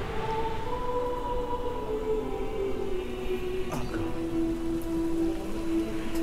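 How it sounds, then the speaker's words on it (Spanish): Rain falls steadily in Shadow of the Colossus, a constant hiss throughout with a sustained tonal drone running beneath it, and no talk. "Y cae la lluvia ahora en plan como simbolizando las lágrimas"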